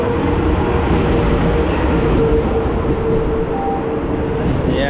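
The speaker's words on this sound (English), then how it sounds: "Yes, our train coming." A high-speed train arriving at a station platform on the Changzhou to Shanghai line, a loud, steady rumble and rushing roar that stays constant throughout, with a faint squeal over it.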